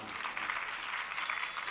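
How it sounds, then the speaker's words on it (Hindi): An audience claps together at a spiritual discourse by a Jain monk, a steady dense patter of hands filling the room with no pauses, fairly soft and evenly sustained. "उन्हीं के लिए ताली बजाओ"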